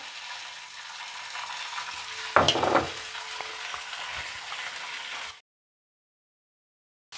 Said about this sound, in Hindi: हम इन सब्जियों को बहुत हल्का हल्का ही सॉफ्ट करेंगे और इसको एकदम तेज़ फ्लेम पर बनाएंगे